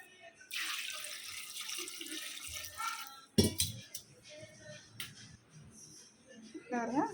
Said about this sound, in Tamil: நல்லா அலசிட்டு ரெண்டு அலசு அலசிட்டு தண்ணி சேர்த்துக்கிடுவோம்